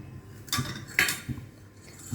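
A metal cooking pot is set down on a stove, making a few short clanks and clinks, close by in an otherwise quiet kitchen.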